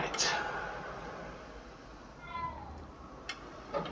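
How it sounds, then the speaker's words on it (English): Small cats meowing in the Hogwarts Legacy video game, a couple of short mews standing out near the start and again later over a steady soft game background, with a voice talking. "Can pet the little kitties."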